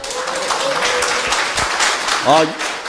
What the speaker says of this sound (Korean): 박수 한번 보내